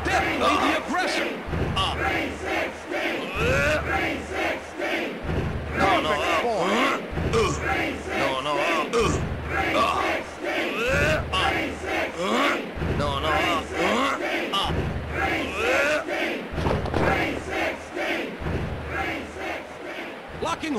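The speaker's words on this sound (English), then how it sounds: "This crowd is deafening." A wrestling arena crowd in WWF Warzone roars continuously, loud and dense, while a commentator's voice runs over it throughout.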